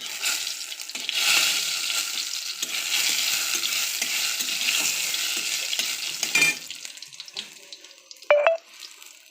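Dry red chili, bay leaf and fennel seeds hit hot oil in a wok and sizzle with a loud, steady hiss and some stirring. The hiss fades out, then a short metallic clank sounds near the end.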